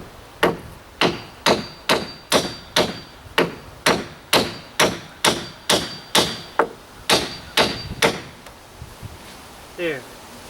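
A hammer drives a wedge into a dipped deck plank, about fifteen loud, evenly spaced strikes close by, slowing slightly toward the end, followed by a short spoken word.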